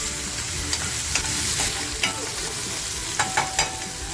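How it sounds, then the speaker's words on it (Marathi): Mutton offal sizzles steadily in a hot pan for vajdi masala, a constant frying hiss broken by several light clicks and scrapes of a spatula, close and without talk. "आपल्याला ती छान खमंग परतवून घ्यायची आहे"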